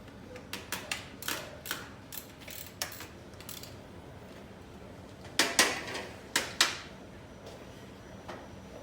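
Hand tightening of dirt bike bolts gives a run of light, sharp mechanical clicks in irregular bursts, with a few louder clacks near the end, close up and without talk.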